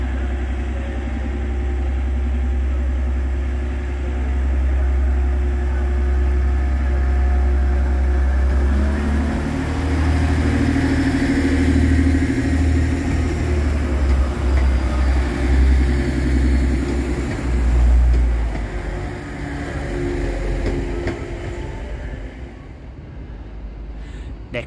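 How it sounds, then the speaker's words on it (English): A Class 185 TransPennine Express diesel unit pulls out of Hull Paragon station, its engine rumble loud and steady with low droning tones rising as it moves off, a brief station announcement audible. "Next train out to depart is 185113, working the 1903 Transpennine Express service through to Manchester Piccadilly."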